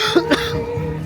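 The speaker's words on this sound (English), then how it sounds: "I'm coughing" A man coughs twice in quick succession, short throaty bursts close to the microphone over a low background hum.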